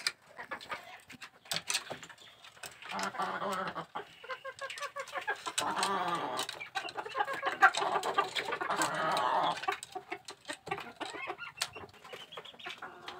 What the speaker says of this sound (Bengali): এই জোড়া দেখতে পাচ্ছেন এই জোড়া হচ্ছে আমার পুলিশ ক্যাপের প্যারেন্টস